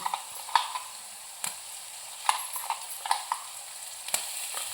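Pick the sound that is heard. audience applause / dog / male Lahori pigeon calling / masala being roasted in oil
masala being roasted in oil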